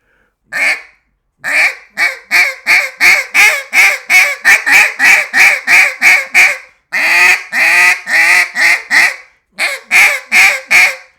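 A double reed turkey call gives a rapid series of loud, raspy, nasal yelps and squeals in quick rhythmic bursts, pausing briefly between runs, close and alone.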